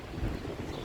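Strong wind gusts buffet the microphone at a historic fortress in Florianópolis, a steady low roaring rush with a brief swell early on and no voices.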